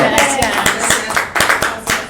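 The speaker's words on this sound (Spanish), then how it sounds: "no tenemos aplauso, pero les damos los nuestros" Podcast hosts clapping for their guests at the close of an episode, a few close, distinct hand claps in an uneven rhythm with voices talking over them.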